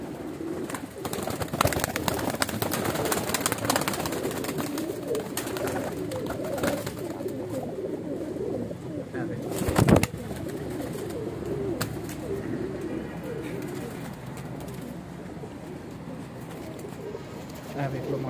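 Many Weshi, Kansani and Sialkoti pigeons coo steadily and close together, a dense rolling murmur that continues throughout, with a brief louder rustle partway through.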